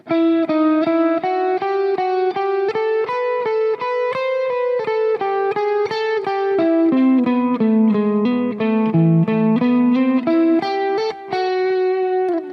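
Electric guitar with an effects unit and light distortion plays a lick slowly over changes, a steady run of sustained notes that climbs and descends in pitch, loud and alone with no talking.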